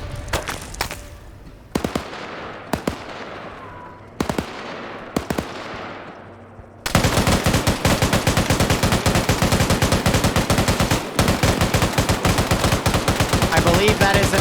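FN MAG machine gun fire in a video game, with scattered loud single shots first and then sustained, rapid, dense bursts that hammer on without a break.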